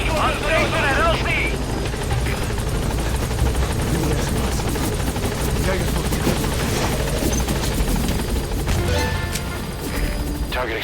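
A helicopter arriving at a landing zone in Metal Gear Solid 5, loud steady rotor thump throughout with bursts of gunfire and a voice talking over it.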